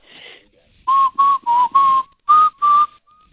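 A person whistles a short tune: six clear, steady notes in a quick rhythm, close and fairly loud, after a brief soft breathy sound.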